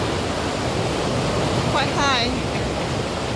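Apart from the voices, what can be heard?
water rushing over a river Cam lock sluice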